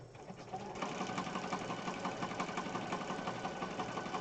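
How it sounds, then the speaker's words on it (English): A sewing machine stitches across paper for a small handmade junk journal folio, its needle hammering in a fast, steady, even rhythm that runs close and continuous throughout. "So now I'm just going to stitch across here."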